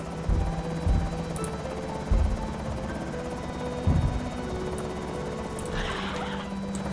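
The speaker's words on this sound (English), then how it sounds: "It is a helicopter." Helicopter in the video game Project Zomboid, a low continuous rotor drone with a steady thrumming texture, punctuated by a few low thumps and a brief higher-pitched burst near the end.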